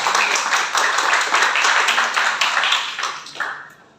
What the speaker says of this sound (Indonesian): Berikan tepuk tangan yang meriah kepada tim panel 1 dan tim panel 2.